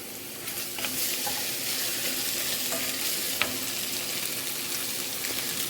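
Food cooking in a pan gives a steady, close, fairly loud sizzle and crackle with faint scraping, and no voices.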